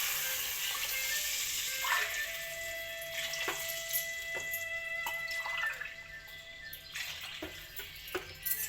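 Water is poured into a pot for soybean biryani, a steady splashing flow with a few clinks and drips, fairly close.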